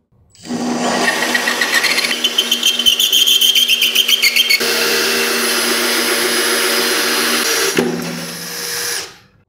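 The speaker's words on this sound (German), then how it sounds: "jetzt geht es einfach darum, dass wir einmal ohne großen Druck anfangen, unser Loch zu bohren" A cordless drill with a tile bit whirs loudly and steadily while boring into porcelain stoneware tile, with a rapid rattling grind at first, then winding down to a stop.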